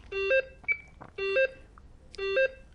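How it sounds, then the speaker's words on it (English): Repeating electronic two-tone warbling alarm from a Tempo Communications Nautilus telephone test set signalling an unbalanced line, sounding in three bursts with brief gaps, close and clear, no talking. "you can hear that's now alarming because it's unbalanced"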